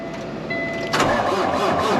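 A semi truck engine cranks over and catches, a short whir giving way to a loud, rough diesel rumble close by.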